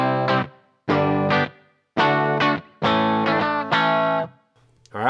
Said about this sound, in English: Alright, so I can go to my reverb.